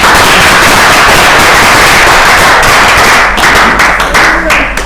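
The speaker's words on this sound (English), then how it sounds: "Let's give a round of applause for Evangelist Veronica." A church congregation breaks into a loud, dense round of applause, steady sharp clapping filling the room close up for the whole stretch and thinning slightly toward the end.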